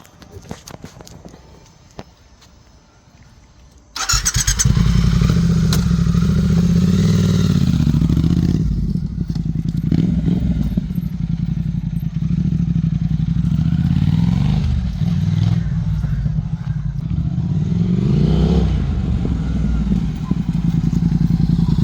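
Triumph Speed Twin 1200 motorcycle pulling away for a short ride, its engine rumbling loud and steady after a quiet start, with rises and dips in tone as it is ridden.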